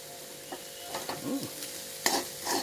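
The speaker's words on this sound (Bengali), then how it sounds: "একটু ভাতটা ফ্রাই করে" Home-made fried rice sizzles steadily in a pan, with soft scraping stirs and spoon knocks over the constant frying hiss.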